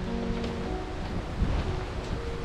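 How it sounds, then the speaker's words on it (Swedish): Water waves wash and lap in a windy mountain landscape in Jämtland during a storm, with a continuous rushing texture and gusty wind noise close to the microphone, no talk. "Vatten."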